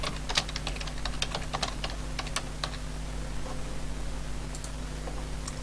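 Someone types a new layer name on a computer keyboard. The key clicks are close and fast, arriving in irregular bursts over a steady electrical hum, with no talking.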